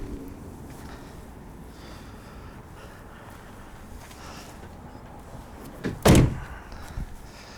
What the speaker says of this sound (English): Of course, you can drop the tailgate like normal.